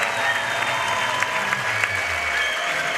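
A packed stadium crowd in Genova at a women's bouldering final claps and cheers for the winners. The applause is loud and steady, a dense wash of clapping with scattered whistles and shouts running through all three seconds.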